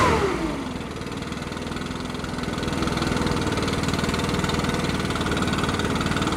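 A Stihl BR600 backpack leaf blower engine runs at idle just after its idle screw was adjusted, a loud, close, steady mechanical putter that settles early and then rises slightly to a constant drone, with no talking.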